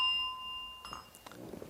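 A hand strikes a bell once, giving a clear ringing tone with bright overtones that hangs and slowly fades for under a second before being cut off by softer rustling.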